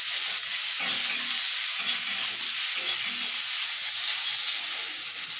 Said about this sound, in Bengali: আমি একটু লাল লাল করে ভেজে নিয়ে তুলে নেব।